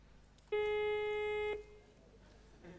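A telephone ringing signal on a 1996 Swedish BingoLotto television broadcast sounds as a single steady electronic buzz lasting about one second, loud and close against quiet studio background.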